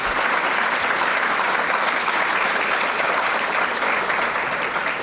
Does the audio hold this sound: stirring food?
no